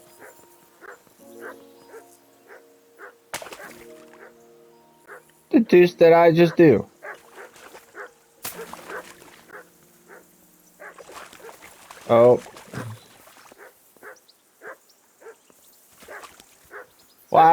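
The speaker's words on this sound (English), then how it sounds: "I assume you can hear that damn dog of yours barking." A dog barking in the medieval video game Kingdom Come: Deliverance II, repeated short barks and yips spaced through the scene, mixed with game sounds and a character's voice.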